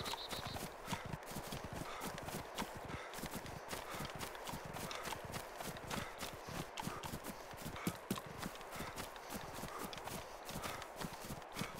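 Cow hooves drum fast in the video game DayZ while the herd is driven along, a dense, continuous clatter of galloping steps heard faintly and steadily throughout.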